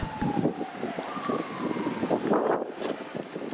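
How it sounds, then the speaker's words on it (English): A siren wails faintly in the distance, its tone slowly sliding, beneath wind buffeting the microphone and general outdoor street noise in Toronto's Wychwood neighbourhood. "I hear a siren going off."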